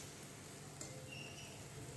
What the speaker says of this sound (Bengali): এবারে লো টু মিডিয়াম ফ্লেমে অনেকক্ষণ ধরে আস্তে আস্তে ভাজতে হবে